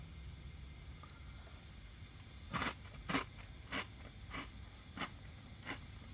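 Pita chip dipped in red pepper hummus crunches in a series of about seven sharp, close bites and chews spaced roughly half a second apart, with no talking.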